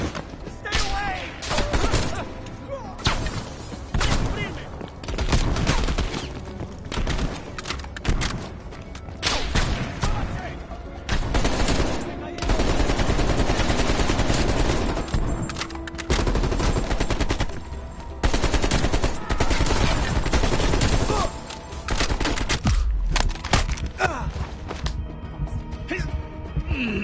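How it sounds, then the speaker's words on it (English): Gunfire in the Call of Duty Cold War video game: loud, dense bursts of automatic fire and scattered single shots, close and near-continuous, with shouted voices mixed in. "They're shooting at us!"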